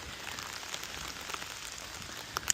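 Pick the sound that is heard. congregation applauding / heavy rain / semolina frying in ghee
heavy rain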